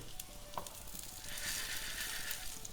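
Food for chicken sambar fries in a pan with a steady, close hiss and sizzle and an occasional faint stir, and nobody talks.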